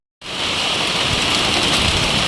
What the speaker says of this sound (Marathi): खूप जोराचा पाऊस येतोय